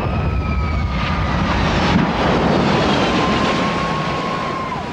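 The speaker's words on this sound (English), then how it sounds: "The Air Force plane breaks some landing gear on touchdown, leaving the aircraft blocking a runway" An Air Force cargo plane lands at an airport in Iceland, its engines roaring loud and steady throughout with a broad rushing noise and shifting whine, and no talk.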